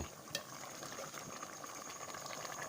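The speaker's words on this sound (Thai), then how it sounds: "กำลังเดือดบุกๆเลยครับ" A pot of Thai-style curry with cow skin boils vigorously, soft continuous bubbling and gurgling, faint and steady, heard up close without speech.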